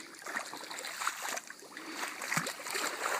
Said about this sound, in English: So, really pretty little creek, freezing cold.